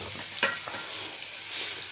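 Onions fry in a pan with tomatoes for chicken biryani, giving a steady close sizzle with a few scraping stirs of a spoon and no voices.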